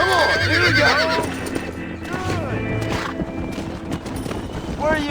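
Horses in Red Dead Redemption whinny repeatedly with clip-clopping hooves, loud and close, while voices shout over them in a busy game scene.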